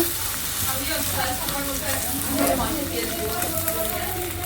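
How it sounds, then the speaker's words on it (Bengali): An egg frying in a pan produces a dense, close, continuous sizzle with bubbling crackles, and faint voices murmur in the background. "সেই যে ডিম ভাজি করতেছি শোভার জন্য"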